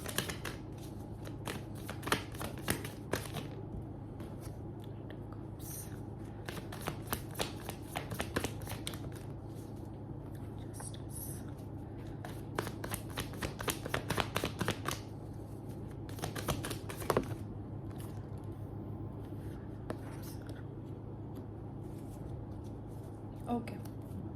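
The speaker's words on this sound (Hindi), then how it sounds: "Let me take out all the cards" Tarot cards shuffled by hand in quick riffling bursts, a crisp run of rapid flutters and soft snaps close up, in clusters across the stretch and pausing near the end, over a faint low hum.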